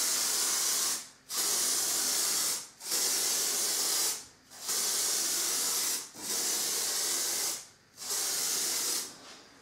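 A spray bottle misting onto a photo subject, five long steady hissing bursts separated by short pauses, loud and close with no voices.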